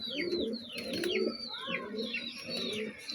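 Pakistani Laldum pigeons cooing close by in repeated soft, throaty phrases, mixed with thin high chirps from other birds in the background.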